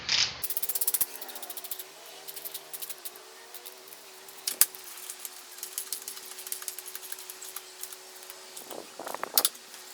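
A Craftsman torque wrench ratchets while tightening the rear axle nut on a Yamaha R6 motorcycle, with a run of sharp metallic clicks in bursts and a final louder click, close up in a quiet room.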